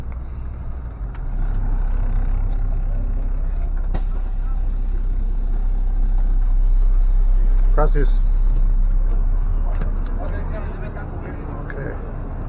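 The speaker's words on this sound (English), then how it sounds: "That's the bus." A city bus in Costa Rica rumbles steadily with a loud low engine drone throughout, a brief brake hiss or squeal near the middle, and a short spoken word over the noise.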